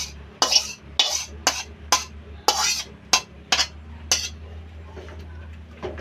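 A metal spoon scrapes sautéed spice paste from a pan into boiling broth, giving a series of sharp clinks and scrapes, about a dozen irregular strikes over a low background hum.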